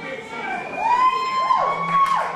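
A concert crowd cheers and whoops. A rising and falling whistle-like whoop rides over a dense wash of crowd noise, and voices mingle within the cheering.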